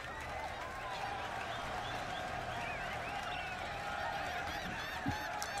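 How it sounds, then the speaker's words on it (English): Steady crowd applause in a video game fills the whole stretch, dense continuous clapping at moderate level with faint honk-like game sounds scattered over it. "Why are they still clapping?"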